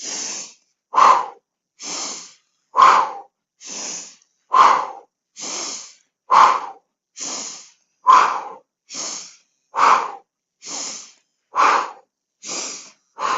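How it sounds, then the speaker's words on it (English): Deep diaphragmatic breathing through the nose in a Pilates swimming exercise: rhythmic pumping breaths, about fifteen sharp sniffs and huffs alternating steadily, loud and close with no speech. "Add a pumping breath. So really deep diaphragmatic breathing in through your nose."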